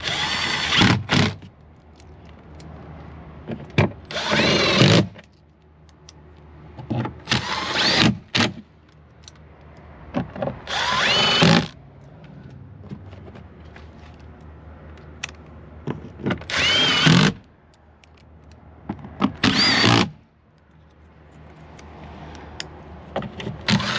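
A power tool drives bolts into the rear door of a 2023 Jeep Wrangler during a door glass replacement, sounding as several short bursts of loud whirring and ratcheting separated by quieter pauses, close up.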